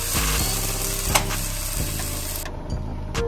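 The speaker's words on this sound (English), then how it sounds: "I like how it browns just like it's real ground beef." Vegan ground beef substitute browns in a hot pan, giving a loud, continuous sizzle with occasional scraping stirs and clicks, no talking.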